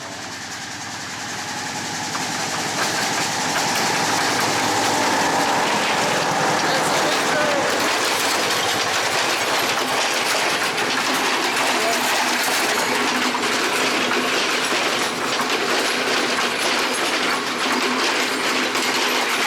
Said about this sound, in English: I was just about to go and then the train comes.